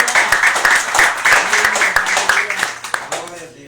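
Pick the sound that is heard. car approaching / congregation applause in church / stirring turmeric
congregation applause in church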